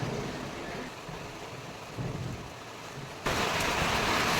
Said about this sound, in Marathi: हे बघा पाऊस आलाय